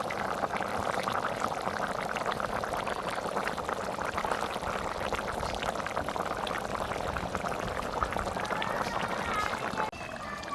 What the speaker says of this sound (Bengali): মাছটা দেওয়ার পরে ভালো করে জাল উঠে গেছে